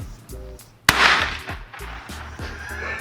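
A toy bomb dropped from a balcony bursts with one sharp, loud gunshot-like crack, followed by a short rumbling decay and scattered softer pops outdoors.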